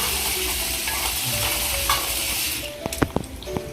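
Pigeon pea pods are washed in water, a continuous close swishing and sloshing as they are rubbed and stirred, ending in a few sharp clicks and knocks.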